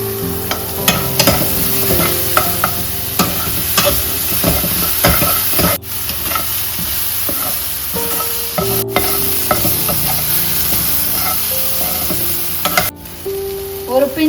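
Vegetables sautéing in a pan for chapati noodles, a steady loud sizzle broken by frequent clinks and scrapes of a spatula stirring, with no voices over it.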